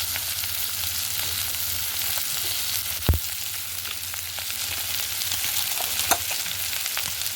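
Ginger garlic paste, turmeric and spices frying in oil in a pan for a Bengali fish oil curry with onion greens, a steady close sizzle with occasional clicks and a faint clunk of stirring.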